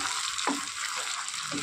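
Potol korma masala sautéing in a pan, a bright continuous sizzle with a few soft scrapes of stirring, close and steady throughout.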